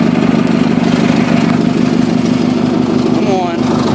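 A tractor engine labors loudly and steadily up close while the tractor drives up a slope, a constant heavy drone with a voice briefly heard near the end.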